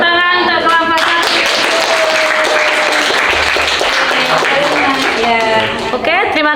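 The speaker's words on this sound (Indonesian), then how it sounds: "Tepuk tangan untuk kelompok satu." A classroom audience applauds a student group after its presentation, a dense, steady clapping that fills the whole stretch, with brief speech at the start and again near the end.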